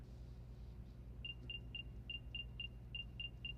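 AirPods give off a Find My locating sound, a string of faint, evenly spaced high chirps, about nine in a row, barely above a low background rumble.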